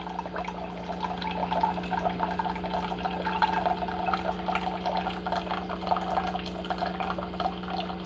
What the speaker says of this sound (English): I gotta stir it while it's pouring the water, hot water, so the creatine can dissolve a lot better.